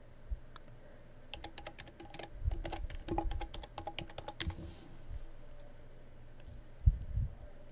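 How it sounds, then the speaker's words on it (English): Quick bursts of keystrokes on a computer keyboard as a password is typed, a run of close, crisp clicks in the middle followed by a couple of isolated taps near the end. "Type in your old password. Your new password, and confirm your new password."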